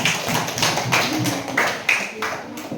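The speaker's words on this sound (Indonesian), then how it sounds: "Tepuk tangan untuk kelompok 3" A classroom of students claps for a group that has just presented, a brisk, fairly close patter of hands with uneven rhythmic surges over a few seconds.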